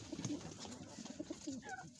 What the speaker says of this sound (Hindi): यह पहला कबूतर है, कसूरियों में से है,